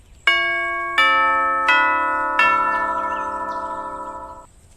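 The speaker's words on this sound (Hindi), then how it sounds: "फिर एक दिन विमला के घर की घंटी बजती है।" Doorbell ringing in a house: four bright, resonant chime strikes in a descending sequence, each ringing on and overlapping before the last tone fades out, loud and clear with no talking.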